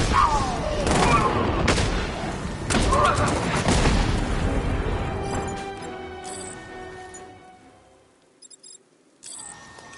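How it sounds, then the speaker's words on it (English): A smoke grenade goes off in Batman: Arkham Knight amid a noisy fight, with loud crashing bursts and clattering impacts that fade into a hissing, quieter tail, while voices are heard. "Smoke grenade!"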